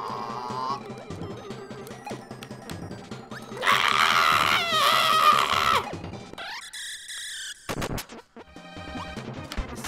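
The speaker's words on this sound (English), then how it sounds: "That's a nice sound that Kirby can make, though, isn't it?" Kirby's high, piercing scream in the Kirby Super Star video game, a loud, wavering cry lasting about two seconds over busy game music and effects, followed by sharp chiming game sounds.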